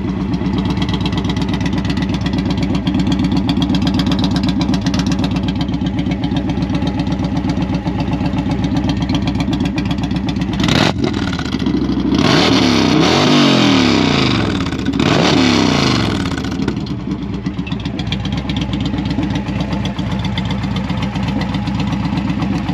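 Indian Challenger motorcycle fitted with a Sawicki 2:1 exhaust and tune, loud and close, idling steadily, then blipped through several sharp revs before settling back to a throbbing idle, with no talk.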